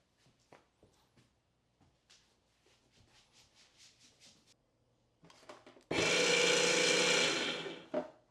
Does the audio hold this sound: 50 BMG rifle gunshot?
no